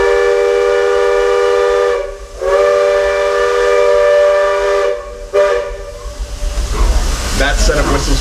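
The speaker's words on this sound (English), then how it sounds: "That set of whistles you just heard" Loud steam train whistle blasts on the Walt Disney World Railroad, two long sustained tones with a short break between, then hissing steam and rumbling as the train moves.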